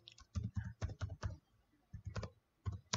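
Search keywords being typed on a computer keyboard, heard as clustered bursts of key clicks with short pauses between them, close and fairly clear.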